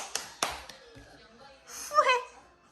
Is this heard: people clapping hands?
yes